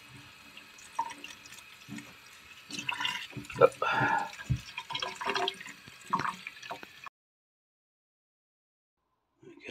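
Running water rinsing a K&N air filter from a 2011 Ural Tourist motorcycle in a sink, splashing and trickling with drips, close and uneven, with a short spoken word, before cutting to silence.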